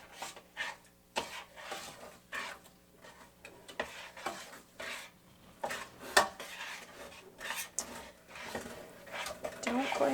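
A peanut butter fudge mixture is stirred in a pot, the spoon clinking and scraping against the sides in uneven bursts, with a voice talking in the background.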